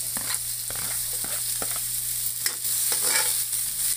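Garlic and onion frying in a pan while being stirred with a utensil, a steady sizzle broken by scraping strokes and light clinks, close and fairly loud, with no voices.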